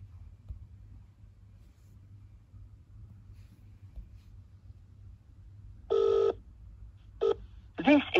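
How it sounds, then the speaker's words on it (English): An iPhone call that rings once and then goes straight to voicemail. Faint background hiss comes first, then a short tonal ring burst and a couple of brief beeps near the end. "it's ringing just once and goes to voicemail straight away"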